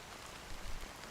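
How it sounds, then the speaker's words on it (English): Steady rain pours down in the video game Honkai: Star Rail, a soft continuous hiss with faint pattering, quiet and even throughout with no voices. "how long has this rain been going on for?"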